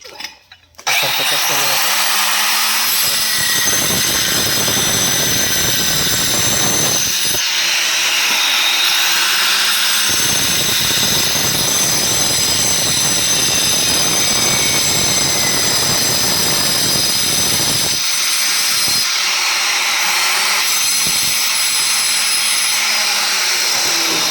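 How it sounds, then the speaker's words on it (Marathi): A tile cutter machine runs loud and steady for most of the stretch, its high whining drone cutting out and restarting twice during the work. "ही कटर मशीन आहे"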